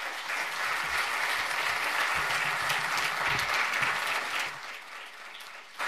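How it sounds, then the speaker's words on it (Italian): Sustained applause from a crowd at a Basta Euro Tour political gathering in Milan, welcoming a young speaker; dense, steady clapping fills the room for about five seconds before tapering off. "Un applauso a Martina Emisfero da Melzo."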